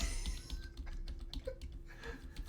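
Cards from the Dark Souls board game are shuffled by hand at a table, producing quick, close bursts of flicking and riffling clicks in an uneven rhythm.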